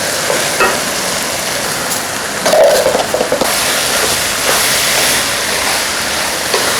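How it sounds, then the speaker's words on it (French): Dry couscous grains poured into a cooking pot for a fatty, rice-style couscous, giving a steady, close, loud hissing rustle with a few brief clatters midway and no talking. "On va venir mettre le couscous."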